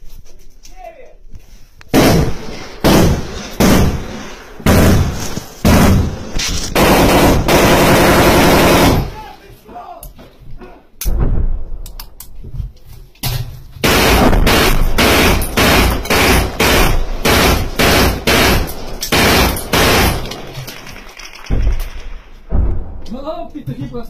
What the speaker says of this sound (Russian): В кусты стреляют, да?